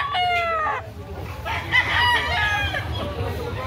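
A fighting cock crows twice in quick succession at close range, sharp and loud, with faint clucking and other fowl nearby at a gamecock farm in Carbon, Cebu City.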